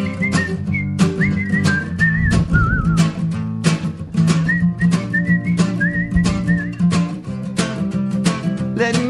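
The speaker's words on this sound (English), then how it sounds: "now a whistle's really bad" Melodic whistling rises in short phrases over strummed acoustic guitar during a live acoustic set on a radio show, the whistled tune carrying clearly above the rhythmic chords.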